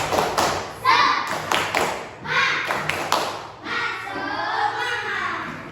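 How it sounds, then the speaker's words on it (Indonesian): A classroom of children doing the rhythmic 'tepuk semangat' spirit clap at the end of an Indonesian lesson, with bursts of patterned claps and thumps mixed with young voices and chatter, close and fairly loud. "tepuk semangat."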